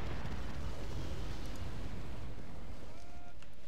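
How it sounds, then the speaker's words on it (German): An artillery shot lands with a deep rumbling boom in the video game Medieval 2 Total War, a loud low blast that slowly fades into a softer rumble. "Die haben wirklich hier reingeschossen."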